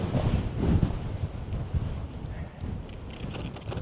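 Wind gusting across the microphone during a bike ride, a steady low rumbling buffet that fills the whole clip with no talking.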